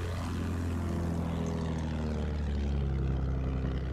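A propeller-driven fighter plane in a video game roars loudly and continuously, its engine drone thick and steady as it flies close by.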